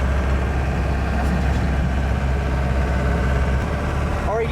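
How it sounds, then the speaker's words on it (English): Ford F350 bullnose project truck with a long-tube Banks 3-inch exhaust idling close by, a steady low rumble throughout with a brief squeak near the end. "it likes that long tube 3-inch exhaust from Banks"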